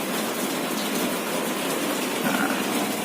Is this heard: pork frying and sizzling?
no